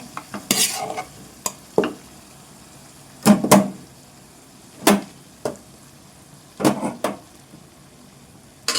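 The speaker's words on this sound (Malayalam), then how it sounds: "ചിക്കൻ നന്നായി വെന്തു. ഇതിലേക്ക് നമ്മൾ റൈസ് ഇടുന്നു." Rice tipped into a pot of cooked chicken for biryani and stirred with a spoon, giving a string of distinct scraping, clattering strokes at irregular intervals, close and fairly loud, with no talking.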